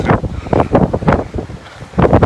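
Cold wind blows outdoors over snow, buffeting the microphone in loud, uneven gusts that rise and fall every fraction of a second.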